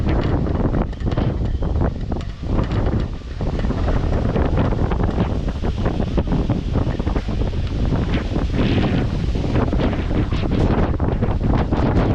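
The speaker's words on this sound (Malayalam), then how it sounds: "ഇവിടെ ഭയങ്കര കാറ്റാണ് ഈ സമയത്ത്" Strong wind roars and buffets the microphone continuously at the Uthralikavu Pooram temple festival grounds in Kerala, a loud rumbling gust noise with no pauses throughout.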